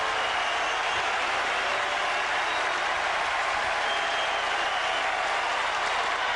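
Capacity crowd at a Boston Red Sox home game against the Los Angeles Angels cheers and applauds in a dense, steady roar that fills the ballpark without pause.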